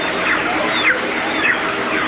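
Chickens held for a Kaporos ritual cluck and squawk close by in a dense, continuous murmur, with a couple of brief sharper calls standing out.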